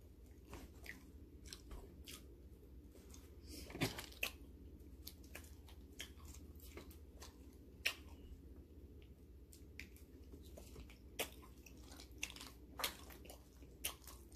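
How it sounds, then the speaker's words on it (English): A person chews food close to the microphone, giving scattered wet crunches and soft bites spread irregularly over several seconds, with a steady low room hum underneath and no speech. "So that's why I chew like that."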